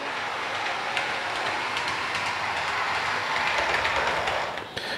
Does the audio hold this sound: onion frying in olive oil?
no